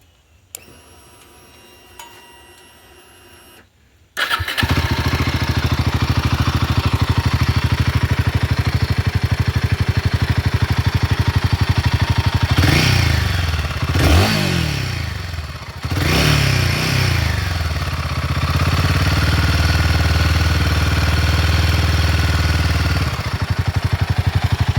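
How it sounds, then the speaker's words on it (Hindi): Royal Enfield Himalayan 450 motorcycle engine idling steadily after starting, with a loose tappet giving a fast mechanical ticking clatter over the running engine, loud and close, with a few brief revs in the middle. "इंजन से ना एक अलग ही नॉइज़ आ रहा था इस गाड़ी से"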